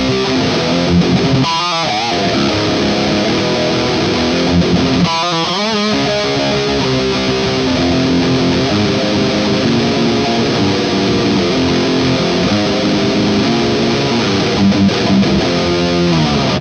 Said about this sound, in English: this is the death metal distortion pedal